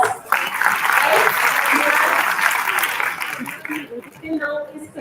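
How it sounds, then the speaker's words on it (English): Applause at an intercollegiate physiology quiz fills a room as a crowd claps together, building quickly and holding steady before it thins out, with voices rising as the clapping fades. "A big round of applause."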